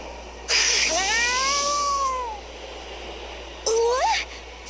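Cat meows with rising and falling pitch in the Bravely Second video game: one long drawn-out yowl, then a short second meow a moment later, clear and near over faint background ambience.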